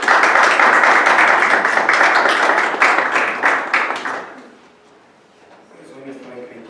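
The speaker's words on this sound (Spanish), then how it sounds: "Fuerte palmas, por favor" Audience applause at a tribute event in a lecture hall, a dense burst of clapping for about four seconds that fades out, with a voice beginning faintly afterward.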